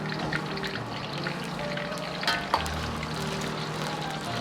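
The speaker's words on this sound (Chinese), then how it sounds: "起锅烧油，油温烧至5成热，保持中火下入烘干水分的山药丁" Diced Chinese yam, dried of moisture, hits medium-hot oil in a wok and fries with a steady soft crackle and sizzle, a couple of sharper pops midway.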